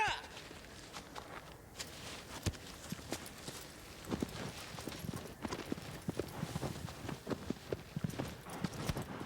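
A horse's hooves gallop in the video game Shadow of the Colossus: a steady, rapid clip-clop of hoofbeats that goes on throughout, fairly faint, with talk over it.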